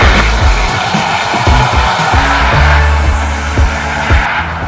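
Trucks race on a dirt track at a night truck event in Ohio, giving loud, close engine roars and squealing tires that rise and fall in bursts, with no talk over them.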